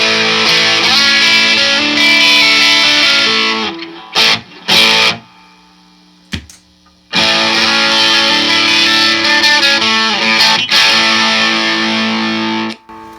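Electric guitar played through a DIY distortion pedal built with expensive components, loud and saturated with a thick low-mid tone, strummed in sustained bursts broken by a couple of brief pauses.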